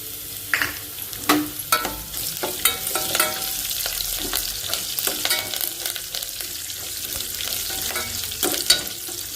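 Curry leaves and garlic sizzling in hot oil for a tomato sambar, a continuous crackling fry close by with frequent clattering stirs and pops throughout, no voices.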